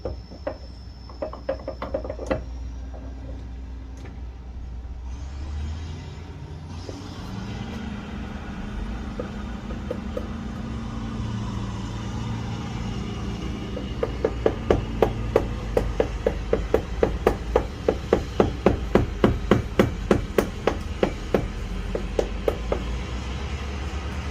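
A Farmall 300 Utility tractor distributor rests on the edge of a vise while a pin is hammered out of it, metal strikes ringing sharp and close, a few early blows and then a long rapid run of steady hammering.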